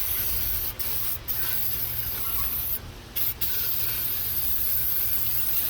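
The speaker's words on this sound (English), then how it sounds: "Gingerly spray some brake clean over everything." Aerosol brake cleaner hissing from a can onto the brake shoes inside a trailer wheel hub, a steady close spray broken by a few short pauses.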